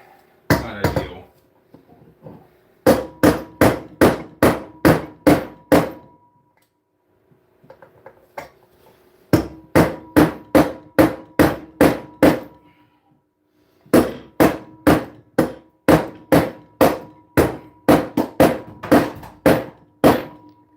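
Repeated heavy hammer blows driving against a stuck metal part, loud and close, struck in fast bursts of about eight to ten hits separated by short pauses.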